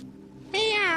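A short, clear cat meow in the video game King's Quest rises abruptly after a low hum, bright and close.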